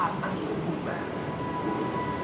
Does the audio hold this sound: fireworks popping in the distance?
no